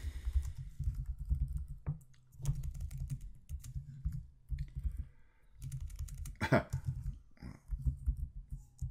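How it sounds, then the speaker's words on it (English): Steady typing on a computer keyboard, rapid clustered key clicks in bursts with short pauses, close and moderately loud, with a low hum underneath and occasional louder clacks. "So now at this point, we'll just start to type in our tasks."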